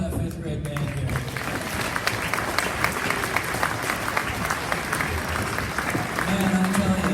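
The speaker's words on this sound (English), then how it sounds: "how about we hear another round of applause for that 5th grade band here" Sustained audience applause at a school spring concert for a 5th grade band, dense steady clapping from a large crowd that holds evenly and swells slightly near the end.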